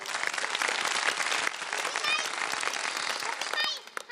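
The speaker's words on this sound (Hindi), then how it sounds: "तो शिराज के लिए तालियां बजा दें एक दफा आप बहुत सारी।" A crowd of children claps and applauds in a steady, dense burst lasting several seconds, with some voices mixed in and a short whistle-like squeal near the end.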